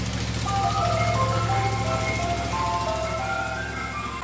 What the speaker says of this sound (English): If that ice cream truck doesn't say creeper,